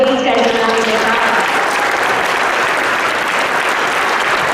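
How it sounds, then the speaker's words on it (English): A school honors assembly audience applauds medal winners in a loud, dense, steady burst of clapping that fills the room, with a voice heard briefly at the start. "Let's give these guys a round of applause."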